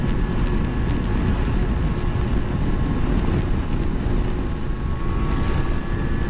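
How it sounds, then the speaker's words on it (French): Strong headwind battering the microphone on a TDR 125 motorbike ride, a loud, constant roaring rush that masks the engine underneath, with no talk. "Là on dirait pas, mais il y a un vent de fou. Il est de face le vent, mais ça souffle dur."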